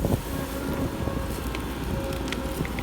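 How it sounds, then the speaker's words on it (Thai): Strong winter wind blows outdoors at a site where eucalyptus stumps are being dug out, making a steady, loud rushing roar that buffets the microphone throughout, with no voices. "ลมก็แรงครับ"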